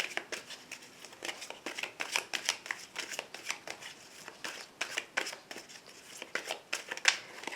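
Tarot cards shuffled by hand before a reading, a steady run of crisp riffling bursts and soft flicks, close and fairly quiet, with no talking.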